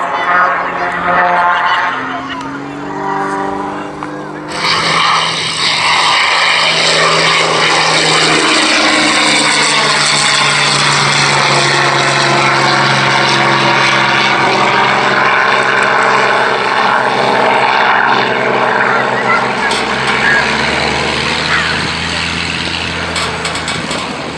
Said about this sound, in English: This aircraft, one of the most potent reminders of the role the Hurricane played in the Battle of Britain